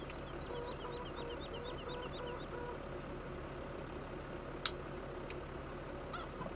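Chickens cluck in a Farming Simulator 17 farm, a run of short repeated calls over a steady engine drone, with a couple of sharp clicks later on.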